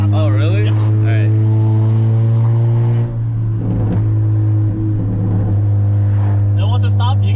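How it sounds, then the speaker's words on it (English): A 10th-generation Honda Accord 1.5T with a KTuned 3-inch exhaust idles with a loud, steady drone, then a short burst of rough crackling pops rises in the middle. People talk over the engine. "Just tapping it once automatically just go pop, pop, pop, pop"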